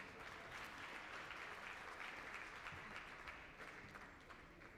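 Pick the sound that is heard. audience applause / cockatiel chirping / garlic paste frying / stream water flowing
audience applause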